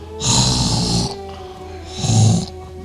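A voice imitating the loud snoring of a sleeping husband, two long rasping snores close up, each about a second, separated by a short pause.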